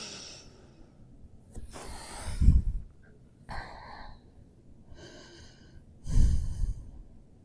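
Audible breaths during a yoga flow practice: slow, close inhales and exhales with a few heavier nasal exhalations, quiet and spaced several seconds apart.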